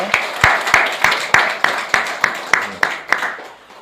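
A church congregation at a Sunday worship service in Yangju, Korea claps together in a steady, evenly spaced rhythm, about three claps per second, fairly close and loud, fading slightly at the end.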